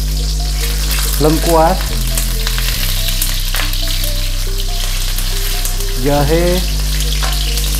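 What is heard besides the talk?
sautéing lemongrass, shallots, garlic, galangal and ginger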